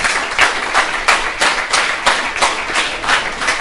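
An audience clapping in a steady, regular rhythm, loud and close, with each beat sharp and evenly spaced and no voices over it.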